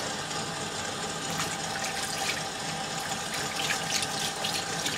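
Steady tap water running into a sink while makeup brushes are rinsed, a continuous close hiss and splash with slight changes as the brush moves through the stream.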